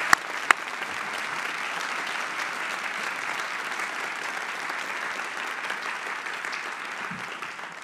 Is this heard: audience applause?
yes